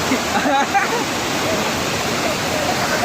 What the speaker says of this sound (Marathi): पण हा धबधबा बघा एक नंबर आहे